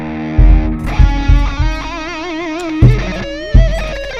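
Electric guitar through a Positive Grid BIAS FX lead preset: distorted lead notes with wide vibrato and bends, punctuated by several heavy low picked hits, loud and close with no talk.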